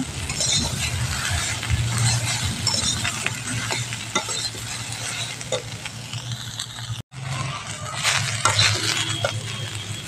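Fried potatoes being stirred into a pan of sizzling curry, a steady close scrape and clatter of a spatula over continuous frying hiss, broken by one brief silent gap.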